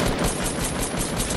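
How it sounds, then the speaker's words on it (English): Rapid automatic gunfire in a Fortnite match, a dense, continuous rattle of shots filling the whole moment at close range with no pause. "Help, I'm being shot."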